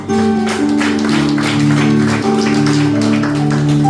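A church congregation claps in praise during a Sunday worship service and Daniel prayer meeting, steady and loud for several seconds over sustained music.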